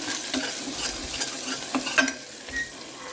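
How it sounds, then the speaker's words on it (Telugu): Chopped onions and green chillies fry and sizzle in a pan, with a steady crackling hiss and repeated scraping stirs of a spoon close to the microphone. "ఇప్పుడు ఉల్లిగడ్డ పచ్చిమిర్చి కొంచెం ఫ్రై అయినాయి కదా"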